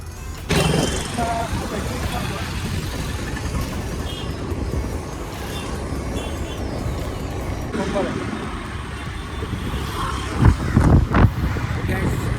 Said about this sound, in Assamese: স্কুটি লৈ গৈ আছোঁ